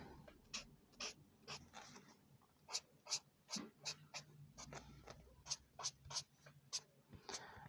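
Broad-nib alcohol marker strokes on paper, a steady run of short, quick scratchy swipes repeating in a loose rhythm, close and fairly faint.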